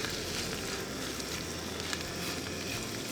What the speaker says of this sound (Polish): i zaczynamy smażyć naszą cebulę.